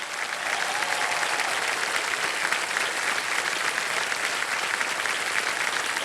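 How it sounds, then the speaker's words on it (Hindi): A studio audience on a televised quiz show claps in a thick, even wash of applause that holds at a steady level from start to finish, with no voices rising above it. "तालियां बज जाएं इनके लिए"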